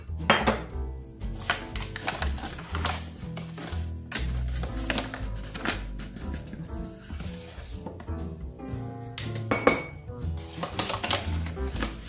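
Dishes, pots and pans clatter and clink close by as a home kitchen is tidied during baking. Metal and ceramic knock together in irregular bursts with cutlery rattling, and no one talks.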